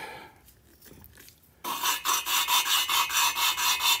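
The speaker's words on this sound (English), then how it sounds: "We use our valve lapping tool, just a suction cup on a stick." A suction-cup lapping tool spins an engine valve back and forth against its seat, giving a steady, rhythmic gritty rubbing that starts abruptly partway through and repeats in quick even strokes, close and fairly loud, after a quieter stretch.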